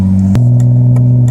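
A loud BMW car engine idles close by with a deep steady drone, a sharp blip of revs near the start, then a strong low hum with faint rhythmic clicks over it.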